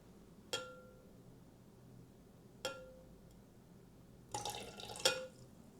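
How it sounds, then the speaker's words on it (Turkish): Activator chemical falls drop by drop into a liquid while gold is extracted from computer processors, making a few sharp, clear plinks spaced seconds apart, with a quick cluster of drips near the end in an otherwise quiet room. "Ve daha sonrasında arkadaşlar aktivatör ilave ediyoruz. Bunu arkadaşlar damla damla"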